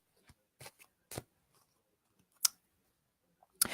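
Playing cards shuffled in several short, crisp riffling bursts separated by pauses, fairly close and alone with no talk.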